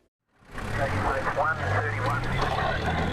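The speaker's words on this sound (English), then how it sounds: "More than 400 firefighters and 100 tankers were joined by water-bombing helicopters in the battle to control blazes" A water-bombing helicopter working over bushfires in Tasmania, its engine drone rising in from silence and holding steady under a voice talking throughout.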